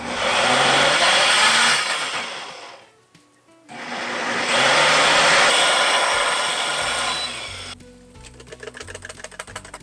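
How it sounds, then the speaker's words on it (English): A stand-up blender purees pumpkin soup in two loud, steady whirring bursts, pausing briefly between them, then cutting to quieter clicks and clatter near the end. "I went with the stand-up blender because I don't want any chunks."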